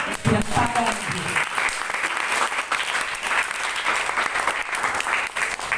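Loud, sustained applause from a church congregation at a worship gathering in Baguio, Benguet, a dense steady clatter of many hands that fills the whole stretch without letting up.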